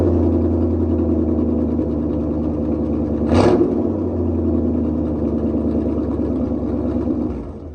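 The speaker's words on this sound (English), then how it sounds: "So we're gonna start up with some open straight pipe." A high boy plow truck engine idling through open straight pipe exhaust, a loud rough low rumble with a brief sharp rev burst midway before settling back to a steady idle and cutting off.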